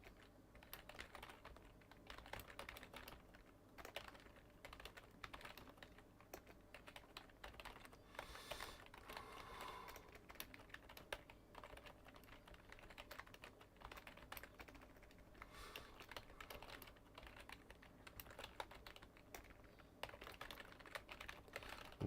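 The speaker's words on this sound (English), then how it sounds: "I'm just typing it up here." Rapid typing on a computer keyboard during a live Photoshop design session, a steady, fairly quiet clatter of keystrokes running without pause, with no talking.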